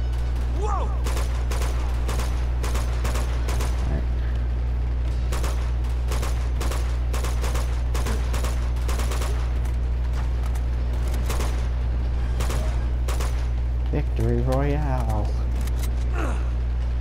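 Repeated gunshots crack out in short irregular bursts during a firefight in Uncharted: The Nathan Drake Collection, over a steady low hum of game ambience, with a player's voice occasionally speaking between shots.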